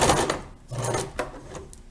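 A domestic sewing machine stitches around the fingertips of a reusable fabric glove in short mechanical bursts. The stitching pauses and starts again several times while the needle stays down and the presser foot is lifted to pivot.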